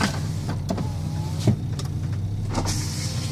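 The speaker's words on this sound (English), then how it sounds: "I want to show you the power mirrors, power windows." Electric power windows on a 2010 Dodge Grand Caravan SE mobility van whir up and down in several short motor runs, close by inside the cabin, with a steady low engine idle underneath.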